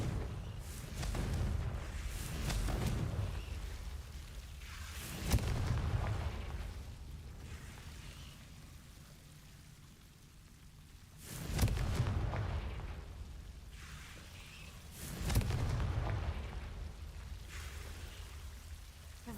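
Confringo blasting spells going off in Hogwarts Legacy, four loud booming bursts spaced a few seconds apart, each swelling and then fading into a low rumbling, crackling tail.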